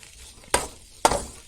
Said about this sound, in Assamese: মিহলাই ল'ম মছলাখিনি।